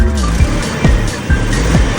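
A 1981 Toyota Supra's 5M-GE engine revs up loudly in repeated bursts as gas is applied, with rising and falling surges close by and no voices over it.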